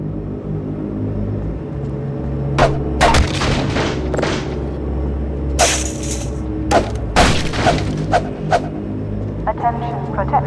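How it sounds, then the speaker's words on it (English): Rapid pistol shots ring out in Half-Life 2, several sharp bangs in quick succession over a steady game rumble, with someone talking through much of it. "The gun will fire as fast as the player can click their input button, meaning that they feel an instant response to their input"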